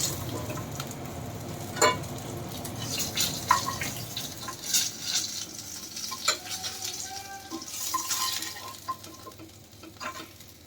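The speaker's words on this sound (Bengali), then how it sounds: "এই যে মাছ মোটামুটি ভাজা চলছে, লাল লাল হয়েই গেছে" Fish frying in hot oil in a home kitchen, a steady close sizzle broken by scraping stirs and occasional clinks of a utensil, with no talk.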